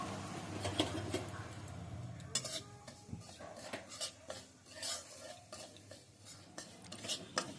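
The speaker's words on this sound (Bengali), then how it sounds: "শুকনো কড়াইয়ে সুজিটা হালকা করে আমি ভেজে নিচ্ছি" A utensil scrapes and stirs dry semolina being roasted in a hot, dry wok over a gas flame, giving a steady stream of soft gritty scratches and occasional metallic clinks from close by.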